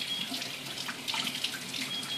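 Water runs steadily from a kitchen tap during handwashing while matza dough is made, a continuous hiss with no pauses and nobody talking.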